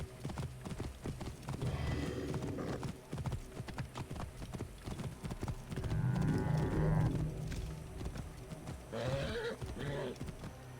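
Rhythmic clip-clop of horse hooves in the video game Assassin's Creed Origins keeps going throughout, with a horse snorting and whinnying at points, close and fairly loud.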